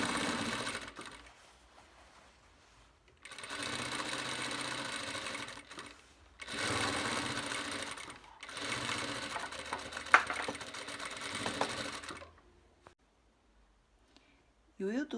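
A sewing machine stitches a summer dress seam joining the skirt front to the top front, running in loud steady bursts of several seconds each, separated by short pauses, with no talk over it.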